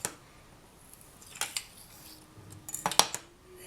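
Polymer clay excess being trimmed away with a blade or scissors, a few short, soft snipping clicks scattered over a quiet background, growing slightly louder near the end.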